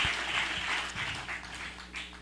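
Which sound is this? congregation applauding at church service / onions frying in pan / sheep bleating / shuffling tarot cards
congregation applauding at church service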